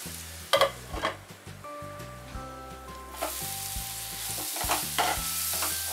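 Amla sizzles in a pan with pickle spice mix and salt, close frying hiss with scraping stirs and bumps that swell louder in the second half, over a low tonal hum, no voices.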